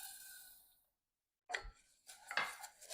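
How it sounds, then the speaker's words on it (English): Rice being stirred as it toasts in hot olive oil in a pan over medium-high heat for risotto, with a few short scraping, rustling strokes of a spoon against the pan after a brief silence, close by. "Stir it for about 1 minute while it toasts."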